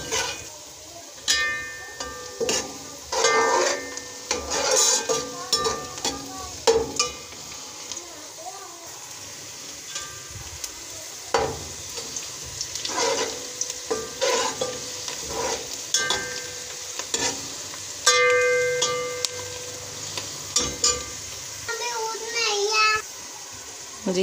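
Onions frying and being stirred in a pan for aloo methi, with steady sizzling and scraping stirs of the spoon, interrupted by clatter and a voice in the background.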